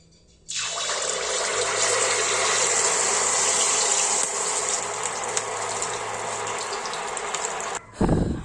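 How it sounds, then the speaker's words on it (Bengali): Batter poured in small amounts into hot oil, for a Makar Sankranti dish, sets off a loud, steady hissing sizzle that starts abruptly and holds for several seconds before cutting off near the end. "তেল গরম হয়ে গেছে, এবার আমি অল্প করে এই ব্যাটারটা দিয়ে দেব তেলের ওপর।"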